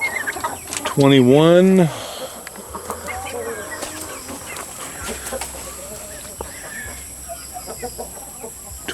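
Chickens clucking nearby in a flock of hens and a couple of roosters, with one loud, rising squawk early on, then softer scattered clucks while someone talks over them.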